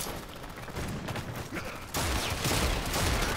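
Secondary-fire bursts from a weapon in Warframe, a dense rattling fusillade of rapid shots that grows louder and fuller partway through, with no voices.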